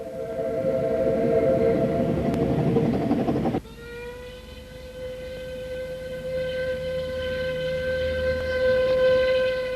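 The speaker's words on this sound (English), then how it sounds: "Here's Mountaineer, heading another train across the Cobb" Ffestiniog Railway steam locomotive Mountaineer crossing the Cobb at the head of a train, heard as a loud, steady rumble of the train. Sustained whistle-like tones carry on after the engine noise drops suddenly partway through, with no talking.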